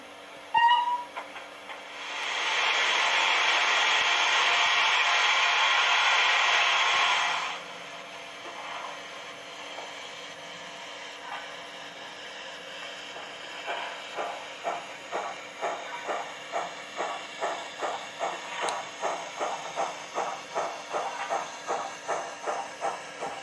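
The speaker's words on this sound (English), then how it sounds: "64203 crosses over to the down sidings now to collect the rest of its train." British locomotive 64203 moves across to the down sidings, first with a long steady hiss of steam, then a regular, quickening chuff rhythm of exhaust beats at moderate distance.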